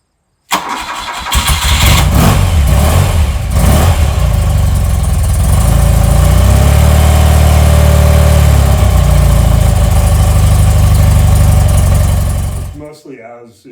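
A 1978 BMW R100S motorcycle flat-twin cold-starts on full choke, catching quickly and settling into a loud, steady, slightly lumpy idle with new mufflers that runs for about twelve seconds before being shut off.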